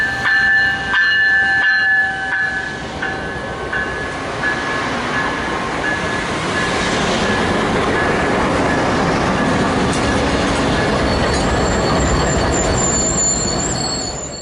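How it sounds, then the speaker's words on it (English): Amtrak 59, the City of New Orleans passenger train, passes southbound, a horn blast and bell early on, then a loud steady roar of rolling cars and clickety-clack that holds before easing slightly. "Next up, we have Amtrak 59, the City of New Orleans, southbound, with 164 trailing third."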